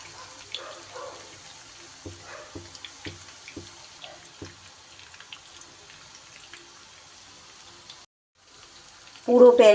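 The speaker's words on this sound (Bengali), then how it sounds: "মাঝারি আঁচেই কিন্তু এগুলো সুন্দর করে মুচমুচে করে ভেজে নিতে হবে।" Chicken pieces fry in rice bran oil in a pan over a medium gas flame, giving a soft, steady sizzle with scattered small pops and a louder burst of crackling at the very end.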